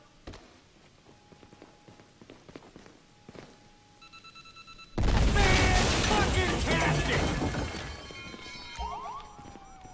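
Police sirens wail in Grand Theft Auto V, rising abruptly to a loud, sustained blare halfway through after scattered footsteps and thuds, with a voice speaking over the chaos.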